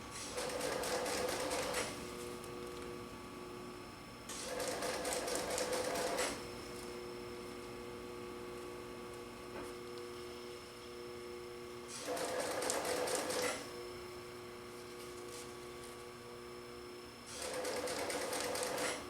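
Sewing machine stitching marine chair upholstery in four steady bursts of rapid mechanical chatter, each a couple of seconds long, with a quiet hum in the pauses between.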